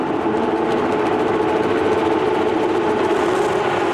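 A Porsche Carrera Cup race car's 3.8-litre six-cylinder engine drones steadily at a circuit, a loud sustained mechanical roar heard without speech.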